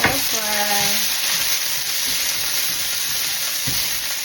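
Onion sizzles and crackles loudly in hot oil in a pan, following browned garlic, for a sweet Filipino spaghetti sauce; a few clinks of a utensil and a short voice sound occur early on.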